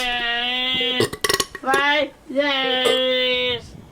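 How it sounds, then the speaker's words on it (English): Long, drawn-out burping noises with a strained, almost bleating tone, loud and close, broken by a few sharp choppy bursts in between. "I don't know why she's burping like that."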